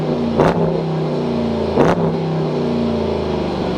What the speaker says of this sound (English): let's get you guys an exhaust clip